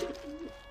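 A pigeon-like bird cooing softly in the Don't Starve video game, a brief low hooting coo at moderate distance.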